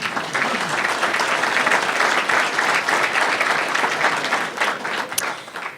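Audience applause at an Illinois Attorney General's address, a steady dense wash of clapping from a large crowd sustained for several seconds.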